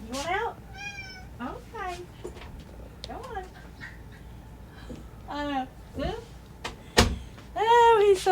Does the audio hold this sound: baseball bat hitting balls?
no